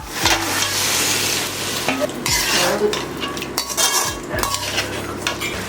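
Boiled mutton with onion, curry leaves and ginger paste fries and sizzles loudly in a pan, with a ladle scraping and knocking through it in repeated strokes, close and continuous.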